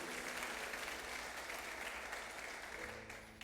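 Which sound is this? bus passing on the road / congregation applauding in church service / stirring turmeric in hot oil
congregation applauding in church service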